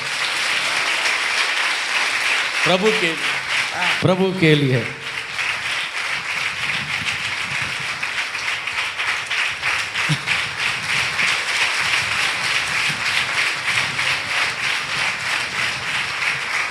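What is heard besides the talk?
congregation clapping loudly in church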